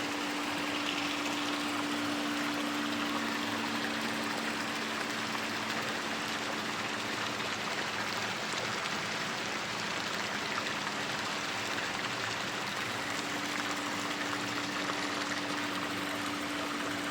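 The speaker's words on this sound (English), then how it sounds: "So this is man-made waterfall" A man-made waterfall at a hill resort in Yercaud pours in a steady, unbroken rush of falling water that stays constant and fairly loud, with no voices over it.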